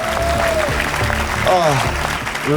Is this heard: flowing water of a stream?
no